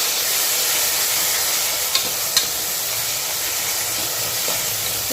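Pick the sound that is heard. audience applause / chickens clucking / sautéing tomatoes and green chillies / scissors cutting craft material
sautéing tomatoes and green chillies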